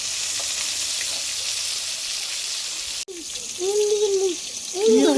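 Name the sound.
fish frying in oil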